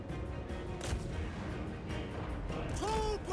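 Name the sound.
explosion from artillery rock in Total War: Warhammer 3 video game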